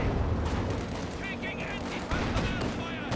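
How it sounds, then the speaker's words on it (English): A ZiS artillery barrage in Company of Heroes 2 pounds the battlefield as a dense, continuous roar of overlapping booms and crackling impacts, loud throughout, with a commentator talking over it. "Here comes a Zis barrage."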